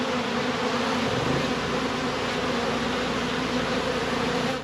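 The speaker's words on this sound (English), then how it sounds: "I see a swarm of bees" Swarm of honey bees near an apiary, a dense steady buzzing drone that stays loud and even throughout with no voices.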